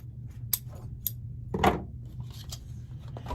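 Scissors cut ribbon for a bow in a few sharp, close snips, spaced apart, with one louder crunching cut in the middle and quiet handling noises around them.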